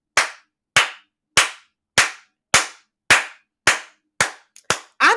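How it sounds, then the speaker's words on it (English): Hands clap nine times in an even, unhurried rhythm, each clap sharp, loud and close with a short ringing tail, and a tiny extra tap slipped in near the end. "I'm going to fucking clap for a sister."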